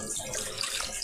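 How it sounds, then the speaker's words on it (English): Water runs steadily from a kitchen tap for hand washing during home baking, a continuous close splashing rush with no talk. "I'm going to go behind and just wash my hands a minute."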